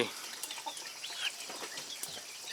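Native free-range chickens in a farm coop cluck and chirp in scattered, light bursts alongside a soft flutter of wings, fairly close, with no talking.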